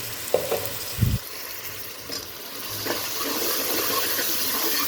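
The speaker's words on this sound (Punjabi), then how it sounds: "ਪਿਆਜ਼ ਆਪਣੇ ਬ੍ਰਾਊਨ ਹੋ ਚੁੱਕੇ ਨੇ ਹੁਣ ਆਪਾਂ ਇਹਦੇ ਟਮਾਟਰ ਐਡ ਕਰ ਦਾਂਗੇ" Tomatoes drop onto browned onions in a hot pan while cooking chole, giving a brief thud followed by a steady, broad sizzle that keeps building without any talking.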